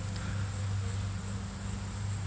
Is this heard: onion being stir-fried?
no